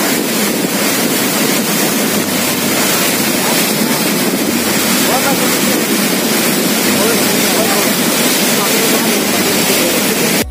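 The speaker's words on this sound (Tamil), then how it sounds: "வாட்டர் சவுண்டு கேட்டிருப்பீங்க" Rushing river water at Hogenakkal Falls, a loud, dense, continuous roar close to the microphone with wind buffeting mixed in, steady throughout with no break.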